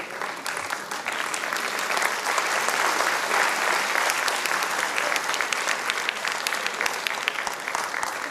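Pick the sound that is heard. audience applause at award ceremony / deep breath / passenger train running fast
audience applause at award ceremony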